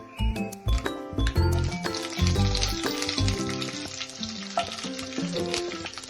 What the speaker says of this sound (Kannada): ಒಂದು 2 ಸ್ಪೂನಷ್ಟು ನಾನು ಕಡಲೆಬೇಳೆ ಹಾಕೋತಾ ಇದ್ದೀನಿ